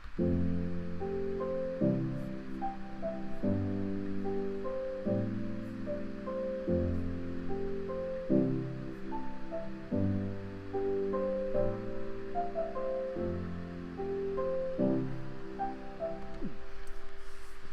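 A mellow sampled piano plugin plays a slow sequence of sustained chords with soft melody notes on top, steady and close, with a faint hiss underneath.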